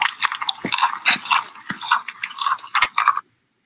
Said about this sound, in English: hopefully you hear the sounds of manatees chewing